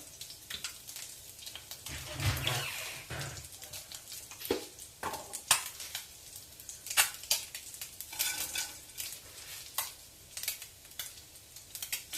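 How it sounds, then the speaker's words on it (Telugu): Tempering spices crackle in the same pan used for frying eggs, where oil and curry leaves go in, giving close, busy sizzling with spoon stirs and clinks of cookware, and no voices. "ఈ ప్యాన్లోనే తాలింపు దినుసులు వేసేసుకుందాం"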